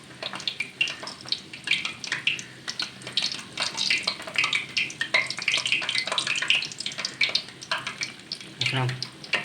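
Moong dal kachoris frying slowly in oil over a low flame, a dense, continuous crackling sizzle with irregular bubbling bursts, heard close and on its own with no talking.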